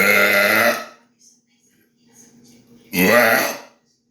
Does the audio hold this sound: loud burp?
yes